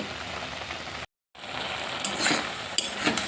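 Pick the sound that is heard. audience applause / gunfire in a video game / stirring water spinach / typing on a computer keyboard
stirring water spinach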